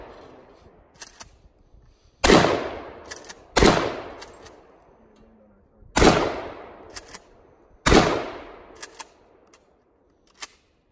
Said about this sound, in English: Mossberg 590, great shotgun, great workhorse, great home defense weapon